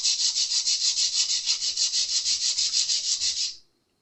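Sandpaper rubs rhythmically over a new Jazz Bass guitar nut, about two dozen quick, even back-and-forth strokes in a steady close-up rasp that stops abruptly, leaving silence.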